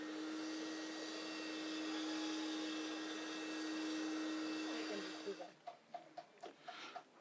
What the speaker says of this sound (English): we'll be removing all the waste and dirt, everything that's been in the mattress